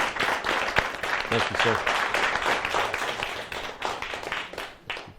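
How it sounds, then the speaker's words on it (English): Steady applause from a university lecture-series audience fills the clip while someone speaks briefly over it. "Why don't we give a warm round of applause"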